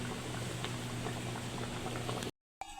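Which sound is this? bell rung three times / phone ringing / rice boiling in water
rice boiling in water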